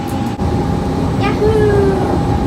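Disneyland monorail rolling along with a steady loud rumble and a tonal whine that glides upward, with a passenger voice speaking over it.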